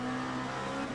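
A race car's tyres squeal in the Le Mans Ultimate racing sim, a brief steady whine layered over a continuous loud engine drone, with no talk.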